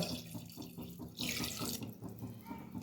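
Hot water is poured from a small metal vessel into a cooking pot of vajari curry. It gives a close, gurgling splash that swells into a brief, louder rush midway, then settles back into a softer trickle.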